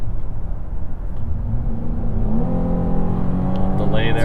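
A 2023 Chevrolet Blazer accelerates in two-wheel drive with a cold engine, its low drone rising steadily in pitch and then shifting as the gear changes, heard from inside the cabin with a brief voice near the start.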